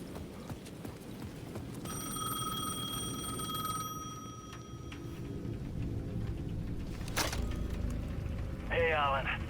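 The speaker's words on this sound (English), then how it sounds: "The payphone at the edge of the plaza was ringing again." A payphone at the edge of a plaza rings in the Alan Wake 2 game with a sustained bell-like electronic tone for about two seconds, over a low ambient rumble and footstep-like thuds, then brief sharp noises.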